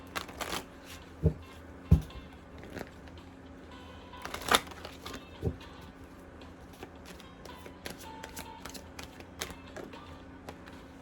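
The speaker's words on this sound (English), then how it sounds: "Let us get a oracle card from the Heal Yourself" Oracle cards being shuffled and handled, giving soft papery riffles and sharp taps spread irregularly through the stretch, close and fairly quiet with a faint background hum.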